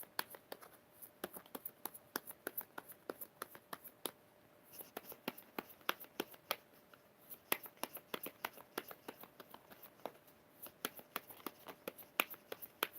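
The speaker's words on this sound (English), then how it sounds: "Oh, I'm tired of shuffling." Tarot cards are shuffled in a quiet room, a dense series of soft, crisp riffles and flicks repeating irregularly, close and fairly faint.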